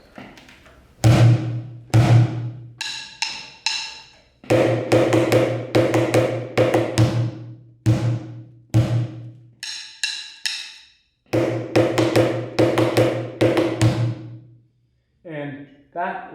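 Bucket drumming plays the bridge of a beginner practice set, sharp hits in bursts of rhythmic patterns separated by short pauses, loud and close, with rim-like clicks mixed among deeper thumps.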